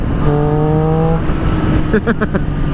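A 2016 Triumph Street Triple motorcycle engine hums steadily with a sustained tonal drone, then a few quick rhythmic revs punch through near the end, close and fairly loud.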